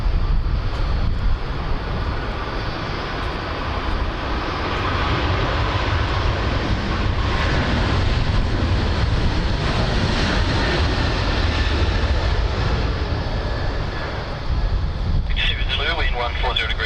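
A jet airliner lands on runway 16 right at Sydney Airport, a long, loud, steady engine roar with wind buffeting that holds for most of the stretch and shifts near the end.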